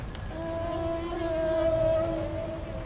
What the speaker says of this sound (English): And this is what it would sound like underwater.